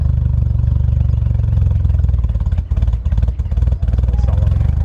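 A Nissan S13 fitted with a new exhaust and radiator runs with a loud, throbbing engine rumble. A few brief throttle blips break the steady idle partway through, and no one talks.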